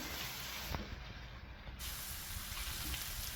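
Curry leaves and green chillies fry in a pan with a continuous, fairly loud sizzling hiss that stays even throughout.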